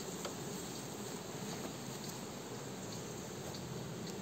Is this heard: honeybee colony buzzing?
yes